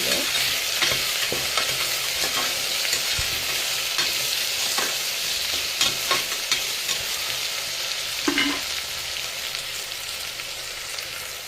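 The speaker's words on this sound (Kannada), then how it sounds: "ಜಾಸ್ತಿ ವಾಸನೆ ಹೋಗೋ ತನಕ ಹುರ್ಕೊಳ್ಳೋಣ ಚೆನ್ನಾಗಿ ಫ್ರೈ ಆಗ್ತಾ" Ingredients for ghee rice fry steadily in a pan, a constant dense sizzle with occasional louder crackles and scrapes of stirring, close and continuous with no talking.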